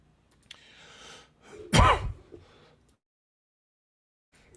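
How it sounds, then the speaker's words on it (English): A loud, harsh cough bursts out once after some quiet breathy shuffling, then the clip falls silent. "I'm sorry about the cough."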